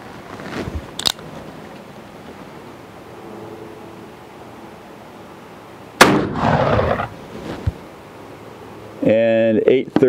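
A Colt Single Action Army revolver fires two sharp, loud shots, one near the start and another about five seconds later. Quieter background noise fills the gap, and a voice speaks briefly after the second shot.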